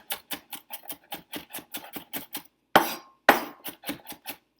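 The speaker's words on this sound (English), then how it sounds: "I'm actually gonna do this a little bit more, just chop it up a bit more" A knife chops onion on a cutting board for salsa, giving about eleven quick, even knocks in a steady rhythm, then a pause and two louder, sharper strikes before a few more light chops. The sound is close and there is no talking.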